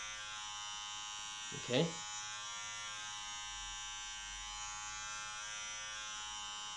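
An electric hair clipper hums steadily throughout as it glides over a man's head during a self-haircut, with a brief spoken word partway through.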